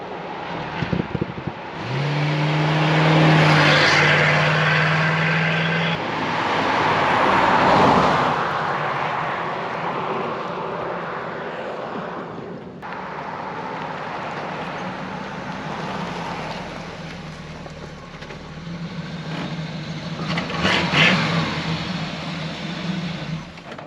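A Pontiac Firebird, long stored as a field find and revived after more than 21 years, accelerates on the road, its engine droning steadily with a rising pull early on, then a shift and a continued cruising roar over wind and road noise.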